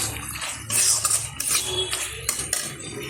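Fried paneer stirred into spice masala in a pan with a metal spoon, a series of clinks and scrapes against the pan over a low sizzle, close and fairly loud, no speech.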